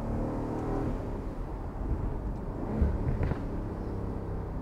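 An Aston Martin Vantage F1 Edition cruises on the road at moderate speed, its engine a low steady rumble with road and wind noise and a slight swell in revs partway through.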